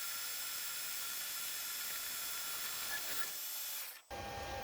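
Steady, dense metallic hiss and whir of a lathe taking a heavy 40-thousandths cut on the diameter of a bushing, continuous and close, briefly dipping near the end before resuming.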